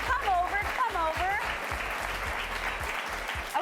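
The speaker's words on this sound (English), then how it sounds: "Give them a round of applause to help scoot them on in." Studio audience applause rings out as guests are welcomed onto a live TV talk show set, a steady wash of clapping over a faint music bed with cheers across the whole stretch.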